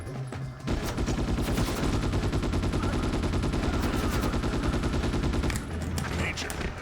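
Weapon fire in the PS2 game Ghost in the Shell, a dense run of rapid, repeated sharp shots lasting several seconds, loud and close.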